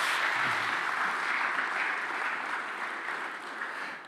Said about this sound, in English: So once again, a big applause for the presentation.